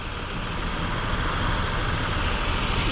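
A 2025 VW Jetta GLI Autobahn's 2.0T engine idles in a steady, even hum with no voices.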